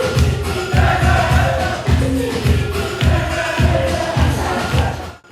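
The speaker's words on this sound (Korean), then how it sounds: "댄스팀의 신나는 공연에 환호하는 병사들" Soldiers, new recruits and troops of an army infantry division, cheer as a crowd over a dance team's upbeat performance at a Buddhist military outreach event, with a loud thumping rhythmic beat under steady shouting and applause.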